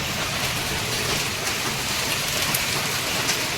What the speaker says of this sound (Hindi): और देखो ये ओले पड़ रहे हैं भैया,